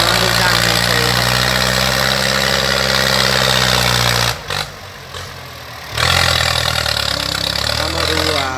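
A Ford New Holland 5000 single-axle farm tractor, a '68, runs steadily at close range with a low, even engine drone that dips briefly partway through before resuming at full strength.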